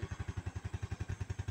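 A motorcycle engine idles quietly at close range, a steady, fast, even thumping pulse with nothing else heard.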